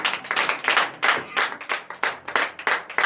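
A congregation at a morning prayer service claps in acclamation, loud, close rhythmic hand claps in a steady beat of roughly three to four claps per second, with no talk over them.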